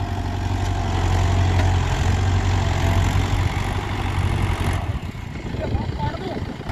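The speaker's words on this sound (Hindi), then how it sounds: "ये महिंद्रा का यूओ टेक प्लस 575 है, 4 सिलेंडर 47 HP के साथ में, बहुत बढ़िया।" A Mahindra Yuvo Tech Plus 575 DI tractor with a four-cylinder 47 HP engine runs nearby with a steady, low idling rumble that shifts and roughens near the end.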